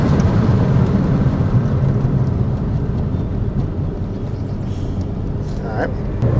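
A car is driven while its brakes are bedded in, giving a steady, loud broadband rumble of road and engine noise that holds throughout without a break.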